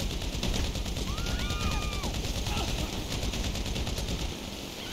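Sustained automatic gunfire in GTA V sounds as a fast, continuous rattle of shots under a steady roar of game noise, with a short electronic tone in the middle and no break in the firing.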